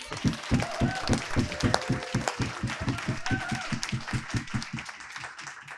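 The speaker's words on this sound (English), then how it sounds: "let's give a round of applause to Kelly" An audience at an alumni reunion panel applauds a panelist named Kelly Watt, a dense, steady round of clapping that fades slightly toward the end.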